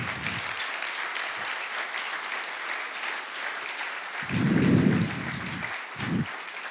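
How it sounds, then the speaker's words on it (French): An audience at a keynote gives steady, close applause with continuous clapping throughout, and a few low rumbling thumps come through partway. "On peut l'applaudir"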